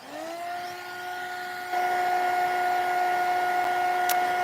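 A heat tool blows steadily as it dries a mixed-media collage, giving a loud continuous whine with a strong hum that rises in level partway through and holds without pause.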